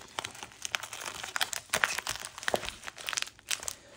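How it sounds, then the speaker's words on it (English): Packing tape is torn and pressed onto a package being prepared for shipping precious metals, giving close, crinkly tearing and rustling bursts in quick succession, with no voices. "What I'm going to do now is add one more piece of tape"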